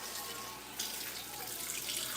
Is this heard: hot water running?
yes